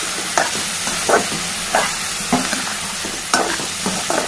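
Potato garlic fried rice being stirred in a pan after salt and turmeric go in, with a spoon scraping and turning it in repeated strokes about every second over a steady, close sizzle of frying.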